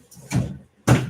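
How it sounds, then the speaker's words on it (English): An office drawer being pushed shut: two dull thuds about half a second apart, close and fairly loud, with no talk. "Let me at least go close the drawer."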